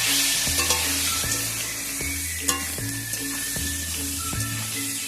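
Pointed gourd frying in oil with salt and turmeric is stirred with a spatula, rhythmic scraping strokes repeating about every second over a loud continuous sizzle, close and without talk.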